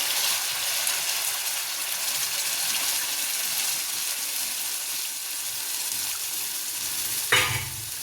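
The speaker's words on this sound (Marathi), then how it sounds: "तेल झाले गरम, टाकते आता मसाला" Spice masala frying in hot oil with garlic and ginger for palak paneer, a steady bright sizzle holding throughout, then a sudden louder crackling burst near the end as more goes into the pan.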